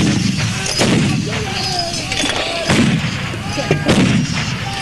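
Six light guns fire on a military exercise at the Wainwright training area in Alberta, with loud, close booming reports repeating roughly every second over a rumbling, echoing background.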